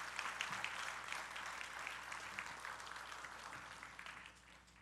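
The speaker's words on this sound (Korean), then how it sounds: "하나님께 영광의 박수를 한번 올려드리십시다" A church congregation at a building dedication service applauds to give glory to God, a soft, distant wash of steady clapping that carries evenly throughout.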